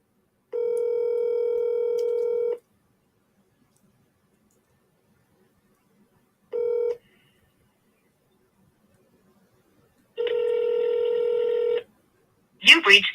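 Touch-tone telephone dialing plays three close bursts of keypad tones, a long run, a short blip and another long run, separated by silence, with a brief voice at the end.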